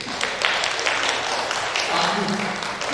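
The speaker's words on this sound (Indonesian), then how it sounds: "Tepuk tangan untuk saya." Broadband crackle of an audience clapping for a speaker at a school teachers' workshop, steady and fairly loud for about three seconds, with a lower murmur of voices near the end.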